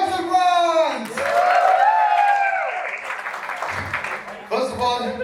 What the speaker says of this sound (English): a big round of applause for Yusuf Rans!